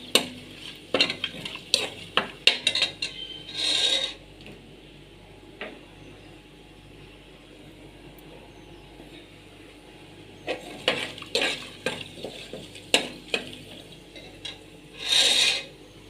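Cumin, spices and cashews frying in oil in a pan for ghee rice, with a steady soft sizzle, repeated scraping and stirring of a spoon against the pan, and a few brief louder hisses, with no talking.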